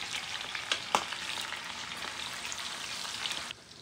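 Chile frying in hot lard (manteca) for beans, a loud, dense sizzle with occasional sharp pops and spatters close by, cutting out abruptly near the end.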